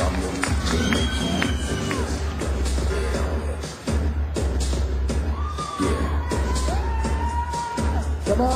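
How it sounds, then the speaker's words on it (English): A crowd at a sports model contest cheers, whoops and claps for a contestant, loud and continuous with a thick babble underneath. "guys, give him a round of applause."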